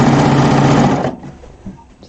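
A 4-thread serger overlock machine stitches quilt fabric with a loud, close, rapid mechanical whir that runs for about a second, then stops abruptly and leaves faint handling noises.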